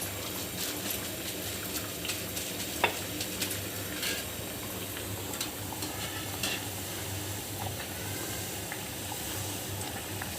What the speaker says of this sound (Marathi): पहिलाच वडा आपण सोडून घेतोय तेलामध्ये.